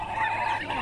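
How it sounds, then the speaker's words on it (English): Muscovy ducks at a crowded duck farm give a continuous harsh honking chatter, loud and close, with overlapping calls from many birds and no talk. "There are so many ducks here."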